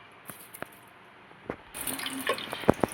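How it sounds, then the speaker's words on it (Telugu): Water is poured into a pot while cooking Hyderabadi bagara rice, with a few close drips and splashes followed by a short burst of running, gurgling liquid toward the end. "మొత్తం ఇలా రైస్ మొత్తం వాటర్ పోయేలాగా వేద్దాం"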